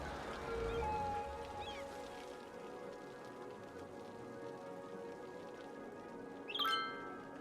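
Steady rain falling on a rainy night in the city-building game Cities: Skylines, a soft continuous patter with faint tonal game sounds and a brief chirp near the end.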